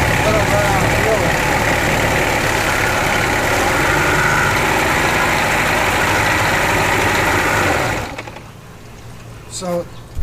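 An engine idling at about 1,000 RPM after a wet run, a loud, steady low rumble that continues for most of the clip, then cuts off abruptly and leaves a quiet tail with a few faint sounds.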